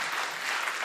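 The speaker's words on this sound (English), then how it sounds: "round of applause straight away." A round of audience applause at the close of a panel discussion on urban fragility and international development, dense steady clapping filling the whole short stretch at a moderate level.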